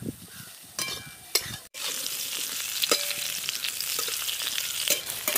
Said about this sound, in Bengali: বেগুনগুলো দিয়ে সব কিছু ভালো করে একটু ভেজে নেব।